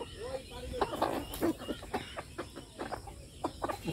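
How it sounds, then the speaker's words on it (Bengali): A rooster and hens cluck repeatedly at close range while feeding on rice, a busy run of short clucks and calls, with a person talking at times underneath. "তো বড়ি মোরগ আছে"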